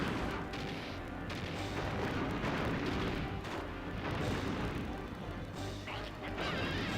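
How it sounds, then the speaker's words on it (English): A TNT barrel blows up on a boss in the Nintendo 64 game Donkey Kong 64. The blast is a dense, loud, continuous roar of explosive crashing that fills the whole stretch. "That poor TNT barrel just gets destroyed like no tomorrow."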